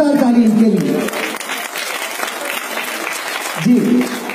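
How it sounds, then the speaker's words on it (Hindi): An audience at a cultural festival in Goa breaks into loud, sustained applause that fills the middle of the moment, with a voice speaking before and after it. "एक जोरदार ताली इनके लिए"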